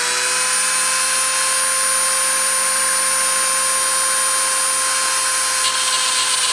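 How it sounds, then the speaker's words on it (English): A machine spindle spins at 30,000 RPM during deposition, giving a loud, steady, high-pitched whine with layered tonal harmonics that holds unchanged from start to finish. "I'm going to start the spindle and start the deposition."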